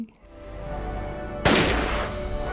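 A single sharp gunshot cracks loudly over a tense rumbling background, followed by a short ringing decay.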